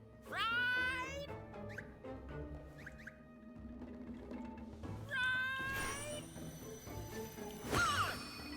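Cat companion meowing in Monster Hunter Stories 2, several short, bright mews and chirps over background game music, close and fairly loud.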